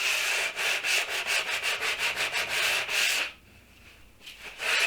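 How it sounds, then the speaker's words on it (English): Rapid rhythmic strokes of sandpaper rubbing along wood edges, steady and close, pausing briefly near the end before resuming. "I'm sanding down the edges just to soften them up"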